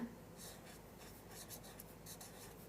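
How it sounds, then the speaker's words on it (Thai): Faint, soft scratching strokes of a hand writing Roman letters (romaji) during a Japanese lesson, coming in short, irregular bursts over a quiet background hum. "เดี๋ยวขอเขียน เป็นตัว โรมันจินะ"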